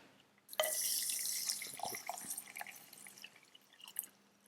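Water poured into a mason jar of sprouting seeds, a soft close splashing stream that starts abruptly, then tapers into a few trickles and drips, fairly quiet.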